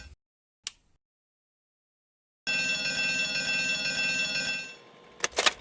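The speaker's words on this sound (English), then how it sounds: "Looks like the phone's ringing." A telephone rings in a sustained electronic trill for about two seconds after near silence, with a few sharp clicks before and after.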